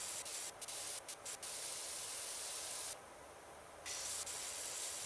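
A pressure washer sprays in PowerWash Simulator as a loud, close, steady hiss with brief cut-outs and a longer pause midway.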